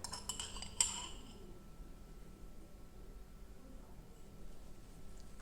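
A teaspoon clinks against metal while scooping excess ground coffee out of a moka pot funnel, a short cluster of light taps near the start, then quiet room tone for the rest.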